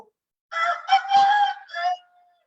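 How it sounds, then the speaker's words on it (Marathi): A single rooster crow at dawn in a Maharashtra village, a loud, close, rasping call of a few rising and falling segments ending in a thin trailing note, heard alone. "हा आवाज ऐकला की आपल्याला लक्षात येते की कोंबडा ओरडला"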